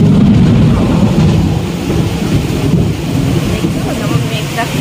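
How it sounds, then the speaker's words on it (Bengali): Thunder rumbles during a heavy rainstorm with strong wind, a deep continuous roll that is loudest at first and then eases slightly, mixed with dense rain hiss. "যেমন মেঘ ডাকছে"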